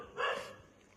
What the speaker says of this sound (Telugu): బయట కుక్కలు మురుగుతున్నాయి